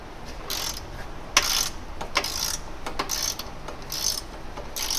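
Ratchet working a 17mm forward bushing bolt on a 10th-generation Honda Civic during an anti-lift kit install, bursts of rapid metallic clicking in several close, uneven strokes with brief pauses, no speech.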